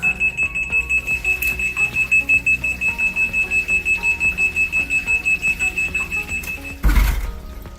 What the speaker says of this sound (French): le système va émettre une alarme lors du démarrage